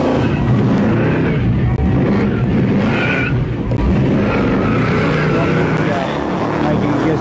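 Peter Brock's Commodore does a burnout with a 700-horsepower alcohol-burning supercharged 8.2-litre Chevy V8, a loud, sustained roaring engine with tyre noise, under a talking voice.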